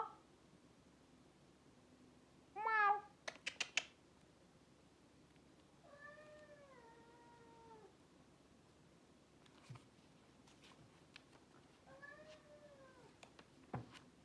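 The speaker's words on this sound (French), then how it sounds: "vous entendez mon chat" A cat meows several times, drawn-out and plaintive, with quiet pauses and faint rustling between calls.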